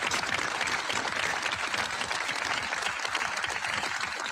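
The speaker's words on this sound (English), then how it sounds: "Let's give them all a round of applause." Crowd at a ceremony honoring veterans in attendance applauding, a steady dense wash of clapping heard at a distance and fairly faint throughout.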